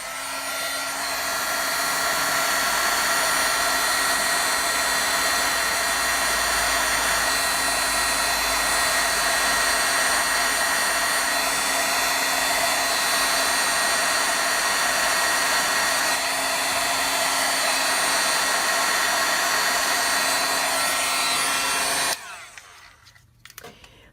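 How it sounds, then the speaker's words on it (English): Heat tool blowing hot air to dry stamped ink, a steady loud whirring roar running alone for over twenty seconds before cutting off abruptly near the end. "I'm going to turn on my heat tool, and you're going to watch me."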